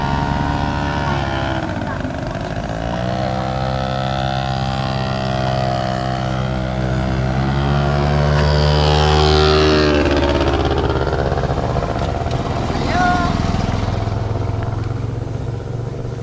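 Several vehicle engines drone loudly nearby, their pitch rising and shifting as they pass and overlap, with a voice talking under the steady mechanical rumble.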